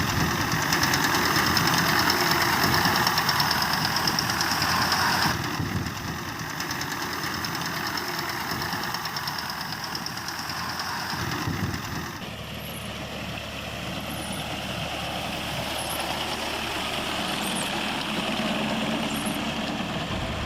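The engine of a 2024-model Alriaz wheat reaper runs steadily and loudly close by, with a constant mechanical drone and rattle that eases slightly partway through.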